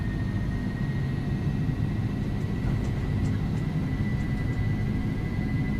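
Airbus A300 jet engines spooled to takeoff power in the X-Plane 11 flight simulator, a steady broadband roar with a faint whining tone, running evenly and unbroken from start to finish.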